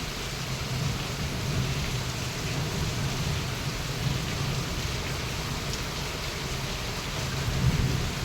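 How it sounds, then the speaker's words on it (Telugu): Heavy rain pours down steadily in Hyderabad, with low rolling thunder rumbling underneath throughout. "ఉరుములు మెరుములతో అయితే వర్షం పడుతుంది"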